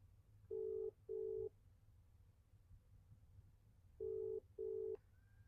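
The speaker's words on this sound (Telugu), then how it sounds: "రింగ్ అవుతుంది." Phone call ringing tone, quiet and electronic, sounding in two paired double rings separated by a pause, with faint low hum underneath and no talking.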